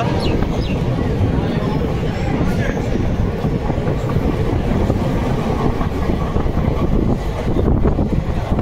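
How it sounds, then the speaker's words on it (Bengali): The Hazarduari Express runs through Dum Dum Junction without stopping, a loud, continuous rumble and rattle of passing coaches with wind buffeting, as heard from on board, with faint talk underneath. "আমাদের হাজারদুয়ারি এক্সপ্রেস দমদমের 3 নম্বর প্ল্যাটফর্ম দিয়ে স্কিপ করছে"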